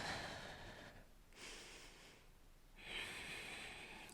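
Deep, slow breaths during a Pilates exercise, three long close-up airy inhales and exhales separated by brief pauses.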